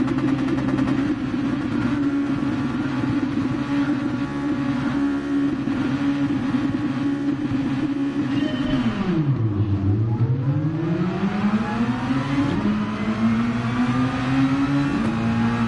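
Race car in Gran Turismo Sport launching from a standing start, its engine roaring loud and steady, then dipping at a gear change and climbing in pitch again as it accelerates hard.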